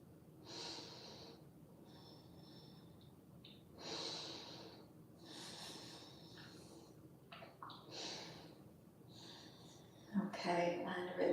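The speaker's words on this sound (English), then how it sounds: "about 5 more breaths here" Slow, deep breaths drawn in and let out during a yoga class, several long airy inhales and exhales spaced a few seconds apart, close and fairly soft, with a brief louder rustle near the end.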